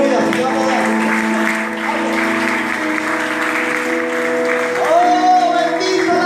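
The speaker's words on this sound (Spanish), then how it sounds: "Nos ha colocado en pie y aplaudo al Señor." A church congregation claps along in a sustained, steady wave of applause during a Spanish-language sermon, mixed with tonal music or sung voices, fairly loud and close throughout.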